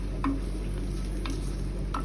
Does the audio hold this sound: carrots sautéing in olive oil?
yes